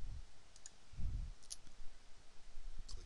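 A computer mouse clicks during office software navigation, with three sharp, quiet single clicks spaced apart over faint room noise.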